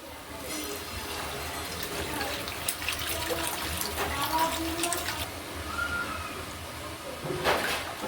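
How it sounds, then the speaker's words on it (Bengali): Water poured into a pan of Bengali pabda fish curry after the spice paste has been fried until the oil separates, a continuous pouring and splashing rush that stays steady throughout, with a louder swell near the end. "মশলাটা থেকে তেল ছেড়ে এসে এবার দিয়ে দেব পরিমাণ মতন জল"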